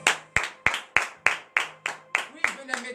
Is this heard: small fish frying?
no